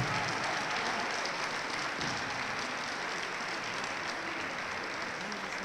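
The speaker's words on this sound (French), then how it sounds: "Je crois que vous pouvez encore les applaudir bien fort." An audience applauds a country line dance demonstration group at a national dance gathering, a dense, continuous wash of clapping that holds steady and loud from start to finish.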